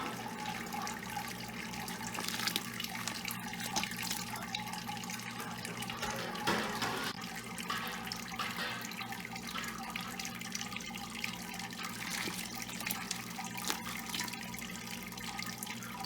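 Sparge water trickling and running steadily through a grain bed during homebrewing, a continuous quiet wash of liquid with a faint hum beneath and no talking.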